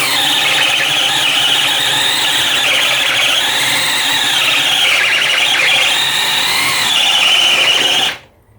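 A Dewalt 18V hammer drill bores into pine wood, a loud, continuous high-pitched whine and grinding that wavers slightly in pitch under load for about eight seconds before cutting off abruptly.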